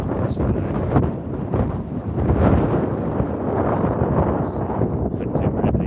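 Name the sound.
wind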